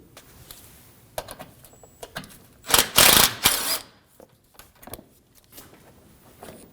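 A 10mm screw is taken out of the fender liner in the wheel well of a 2013-2015 Subaru XV Crosstrek: scattered close clicks and small rattles, then a loud rushing burst of a second or so midway, with no talk.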